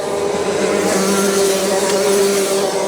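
A racing kart engine drones steadily on an icy winter track at Whilton Mill, a continuous buzzing whine held at moderate distance with no clear rise or fall, alone without talk.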